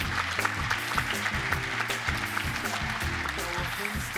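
Steady applause from an audience at a school arts awards night, continuous clapping with faint musical or tonal sound running underneath.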